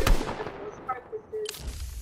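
Sniper rifle shot in a video game, one sharp close report at the start followed by a reverberant tail, then softer thuds and game effects.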